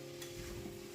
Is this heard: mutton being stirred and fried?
yes